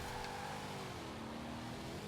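Chevy 150 V8 engine in Forza Horizon droning at low revs, a quiet, steady, weak-sounding hum with a slight pitch drift, no talk.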